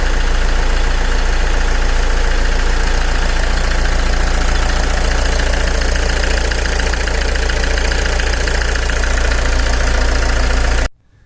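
A Fiat Ducato van's engine idles loud and close, a continuous rough diesel rumble with a faint knocking texture that runs steadily for about eleven seconds before cutting off abruptly.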